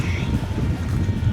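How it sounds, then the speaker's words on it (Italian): Waves slap and wash against the keel of a sailing boat under sail at six to seven knots with no engine running, a steady low rushing swell with wind buffeting the microphone throughout. "non c'è il rumore del motore, soltanto le onde che urtano la chiglia."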